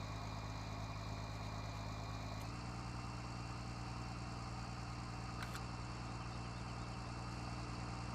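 A tractor engine idles in the video game Farming Simulator 19, a steady, loud, droning hum that continues throughout, with a slight shift in tone partway through and no talking.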